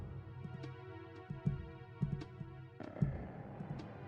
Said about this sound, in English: The heartbeat.